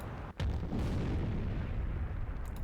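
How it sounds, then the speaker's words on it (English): An explosion sound effect in the visual novel Root Double opens with a sharp blast, then rolls into a long, low, rumbling roar that slowly settles, heard alone and fairly quiet. "The flames of an explosion surged into the room."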